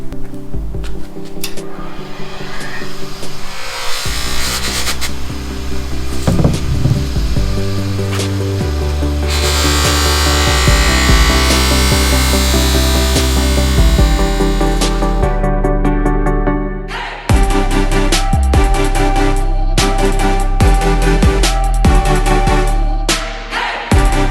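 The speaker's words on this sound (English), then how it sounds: "This is an electric wheel. This is actually my grandpa's wheel. He gave it to me, but it's an older Baldor, and we have a pad on here" An older Baldor electric polishing wheel with a pad buffing aluminum, a loud steady whirring grind with shifting rubbing tones as the metal is pressed and moved against it, running continuously with no talk.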